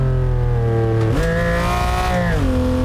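Car engine in the BeamNG.Drive driving game rev-matching on a heel-toe downshift: a steady loud drone jumps sharply upward in pitch, holds briefly, then drops back, all close and continuous with no talk.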